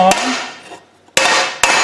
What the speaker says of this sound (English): letting the hammer do the work. I'm not forcing the hammer, I'm letting it drop